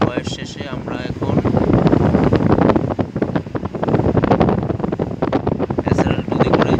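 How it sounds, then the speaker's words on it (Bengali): Boat (SRL 2) heading out on the open sea, wind buffeting the microphone over a steady engine and water rush, with people talking faintly throughout. "বোটে যাচ্ছি। কিছুক্ষণের মধ্যে বোটে ল্যান্ড করবো আমরা।"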